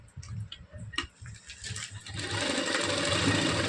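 A sewing machine stitching fabric, at first a few short bursts of rapid ticking, then a long continuous run of stitching that grows louder and steadier, heard up close with no talking.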